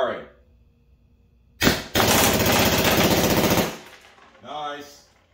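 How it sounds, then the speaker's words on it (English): A Valken M17 airsoft gun fires fully automatic into a barrel in one rapid, dense burst lasting about two seconds. Brief speech comes before and after it. "Fun switch activated. Firing fully auto into the barrel."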